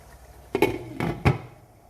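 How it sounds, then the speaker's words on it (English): A pot lid is set back onto a simmering pan of chicken jalfrezi with peppers: three sharp metallic clinks in quick succession, close and fairly loud against quiet kitchen background. "I'm going to put the lid back on, let it simmer for about the remaining 5 minutes"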